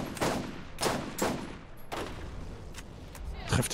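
Gunfire in the Borderlands game: several sharp, separate shots spaced unevenly over a few seconds, loud and close, with a final burst near the end and quiet talk in between.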